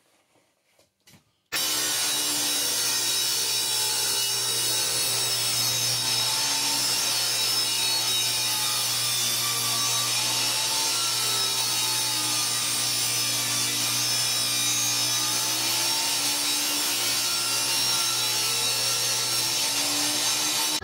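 A table saw rips a half-inch strip of wood for a flooring transition piece, a loud, steady whine with a constant low hum that starts abruptly after a brief quiet moment and holds throughout.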